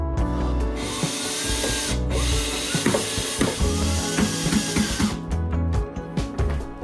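Power drill driving screws into marble backsplash panels, a loud, close, continuous whir with ratcheting bursts and shifting pitch as each screw is driven, with no talking.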